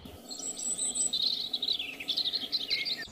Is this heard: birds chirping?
yes